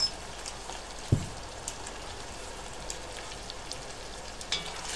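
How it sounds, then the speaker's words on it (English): Carrots, onions, garlic and ginger sizzling in olive oil in a pot over an off-grid cooking setup, a soft steady crackle broken by a few light knocks of stirring. "So just keep stirring. You've got carrots, onions, a bit of olive oil, a bit of garlic and a bit of ginger in there at the moment."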